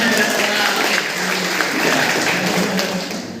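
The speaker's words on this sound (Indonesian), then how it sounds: "Tepuk tangan generasi muda." Indoor audience at an anti-corruption outreach session claps together, a steady dense wash of applause that holds for a few seconds before tapering off.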